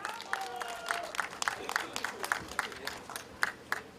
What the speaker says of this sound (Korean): 더 힘찬 박수 부탁드리겠습니다